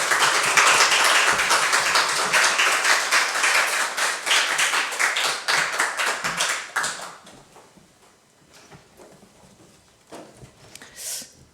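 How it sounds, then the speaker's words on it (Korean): A church congregation claps for a guest pastor coming forward at a Sunday worship service. Dense, loud clapping fills the first seven seconds, then fades to a few scattered claps and quiet. "우리 목사님 나오실 때 한번 박수로 하나님 앞에 영광 돌리시기 바랍니다"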